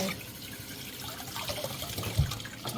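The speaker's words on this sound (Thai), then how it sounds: "แล้วก็เปิดน้ำใหม่ใส่เข้าไป" Tap water runs steadily into a container, a close, continuous splashing gurgle with a brief thump near the end.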